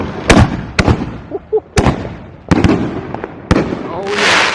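Homemade fireworks from a four-shot prototype launch on the Fourth of July, firing a series of sharp, loud nearby bangs spaced about a second apart, with voices between shots and a rising hiss at the end.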